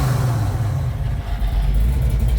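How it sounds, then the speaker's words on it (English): A supercharged 496 engine in a 1972 Chevelle idles loudly and steadily up close, its deep rumble dominating and the blower whine hard to pick out. "You can hear the blower up here too."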